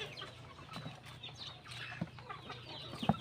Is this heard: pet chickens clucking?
yes